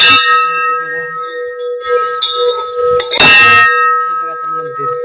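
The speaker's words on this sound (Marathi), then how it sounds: "हे बघा आता घंटा." A Hindu temple bell is struck at the entrance steps, giving bright metallic clangs with long ringing tones that hang between strikes, the first at the start and a louder one a few seconds later.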